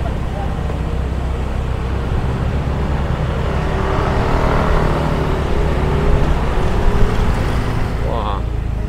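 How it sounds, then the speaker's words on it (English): Busy night road traffic near Jalan Arjuna in the Double Six beach area of Bali, a steady close rumble of engines and passing vehicles heard from inside a moving car, continuous and fairly loud throughout. "it's big traffic here."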